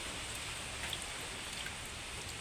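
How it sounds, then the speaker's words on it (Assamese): Rain falls steadily with wind, a soft, even hiss of drops on surfaces, faint and unbroken, with no voices. "বতাহ আৰু বৰষুণ ৰাতিৰ পৰা দি আছে"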